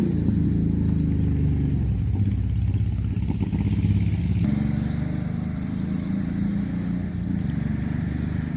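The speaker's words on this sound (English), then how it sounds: "some people like to have their motorcycles loud." Loud motorcycles and other road vehicles rumble past on a road beside a park woods, a heavy continuous engine drone that shifts as one machine passes and another takes over, with no talk.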